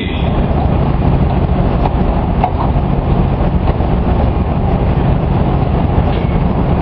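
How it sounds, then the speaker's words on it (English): Union Pacific #949, a restored E9 diesel locomotive in classic streamliner livery, rumbles steadily and loudly up close at a rail museum, a continuous heavy engine drone with faint rail clatter throughout. "It's one of 3 E9 locomotives restored by Union Pacific for use in special service"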